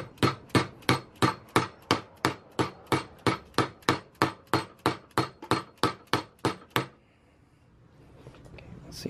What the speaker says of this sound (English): Let's hit it with a hammer. Just to give it a little bit of angle.